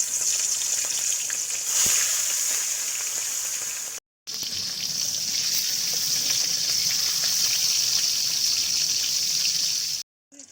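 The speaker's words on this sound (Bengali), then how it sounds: "তেলটা গরম হয়ে গেছে, এখন দিয়ে দিব মাছের মাথা।" Hilsa fish head fries in hot soybean oil in a pan, giving a steady, loud sizzling hiss that breaks off briefly twice.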